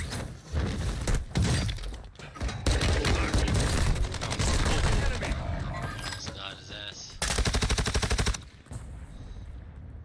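Rapid automatic gunfire rings out in a video game shootout, dense bursts with glassy shattering, loud and close, pausing briefly and then returning in another sharp volley near the end, with voices talking over parts of it.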